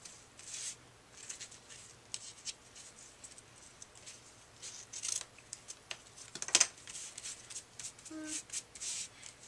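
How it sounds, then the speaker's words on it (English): Scissors trimming a greeting card with a gift card holder, making a series of quiet, close snips and paper rustles at an irregular rhythm, with no talking. "Trim these."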